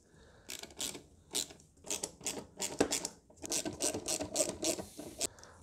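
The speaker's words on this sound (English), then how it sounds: "let's remove this air filter housing. With a 10mm you've got 3 screws around." A 10mm ratchet loosens the air filter housing screws on a Hyundai i10, with repeated rapid clicking bursts of the pawl in short runs and brief pauses between, close up and clear, with no voices.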